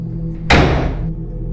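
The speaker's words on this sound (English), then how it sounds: "I ran out of the room, slamming the door behind me" A door slams shut hard in a single loud impact, followed by a brief ringing decay over a low background hum.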